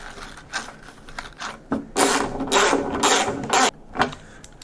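Screws being tightened on a Jeep CJ door panel fitted to a YJ door, heard as a series of close ratcheting, grinding bursts of turning and creaking metal, louder in the middle, with brief pauses between.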